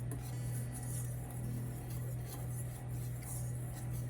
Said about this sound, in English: You wanna mix your dry ingredients well